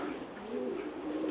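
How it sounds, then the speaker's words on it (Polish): Low, soft cooing from a breeding racing pigeon rolls on steadily and close by, a continuous murmuring coo with no pauses and no one talking. "ten gołąb był wychowany z przeznaczeniem do rozpłodu u Tadeusza."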